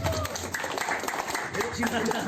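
Steady applause from a room of people at a national leadership meeting in Jakarta, with voices mixed into the noise throughout.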